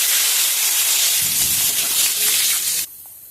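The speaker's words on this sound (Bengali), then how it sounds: "দিয়ে দিচ্ছি জিরে ফোড়ন" Cumin seeds with whole dried red chilli, cardamom and cinnamon dropped into hot mustard oil, a loud, dense hiss that holds steadily for about three seconds and then cuts off sharply.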